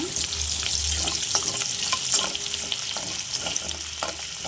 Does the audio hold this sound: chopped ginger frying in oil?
yes